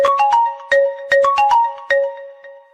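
A Vivo mobile phone ringtone plays a quick melodic sequence of bright, plucked electronic notes in a bouncy repeating rhythm, loud and clear with no other sounds.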